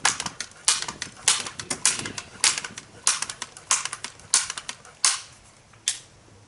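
Rapid series of sharp cracks from a Daisy Powerline 880 or Crosman 1077 air rifle striking a target, roughly a dozen snappy impacts at an irregular pace, close and distinct with no talking.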